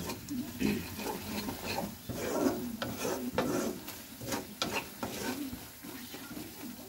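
Masoor dal masala with ground coriander, cumin and chilli powder sautéing in a pan, with soft sizzling under repeated scraping and stirring strokes of a spatula.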